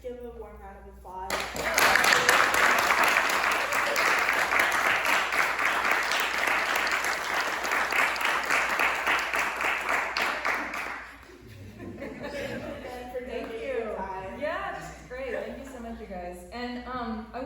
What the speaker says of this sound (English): If we could just give a warm round of applause